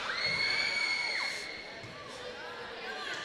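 A girls' high school volleyball crowd in a gym murmurs and shouts in a steady, moderately loud swell, with a few high whoops and cheers rising over the din and a voice talking over it.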